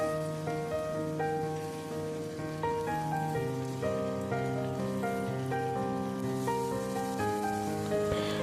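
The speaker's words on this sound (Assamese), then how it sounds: "প্ৰায় 5 মিনিটমান সময় ভালকৈ লৰাই ভাজি ল'ব।" Banana flower and potatoes frying in a pan over medium heat, a soft, even crackling sizzle mostly covered by background music.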